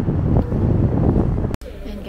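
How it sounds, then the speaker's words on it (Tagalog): Strong gusty wind buffets the microphone outdoors near a palace in South Korea, a loud low rumble that cuts out abruptly near the end before resuming more softly. "ang hangin pa"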